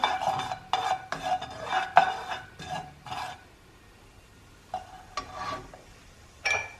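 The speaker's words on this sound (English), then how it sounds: "Now I'm just going to stir that in." Carom seeds being stirred into a pan while making spicy paneer samosas, a run of rhythmic metal scraping and clinking strokes, then a quieter pause before a few more stirs.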